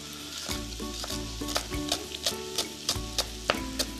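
Onion and garlic sizzle steadily in hot oil, with a dense continuous fry crackle and repeated sharp scrapes and knocks of a spoon stirring through the pan, close and fairly loud throughout.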